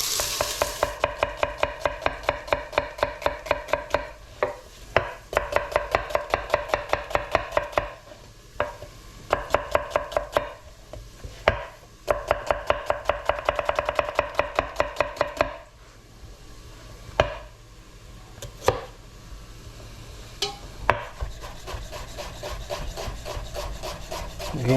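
Onions are sliced with a knife on a board in a home kitchen being prepared for lasagne, with rapid, regular close chopping strokes in runs broken by short pauses, later slower scraping cuts.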